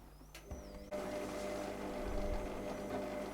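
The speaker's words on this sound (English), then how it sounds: "I can hear a pump now whirring away" Inside a machine being tested that has a drum, fan and heater, a small pump kicks in with a low, steady electric whir, faint and close, starting just after a short click.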